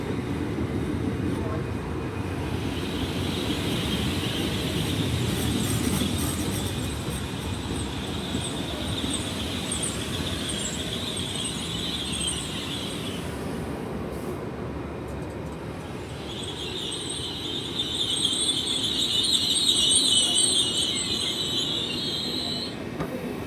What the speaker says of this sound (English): Right, departing out now, 802-015 and 802-022.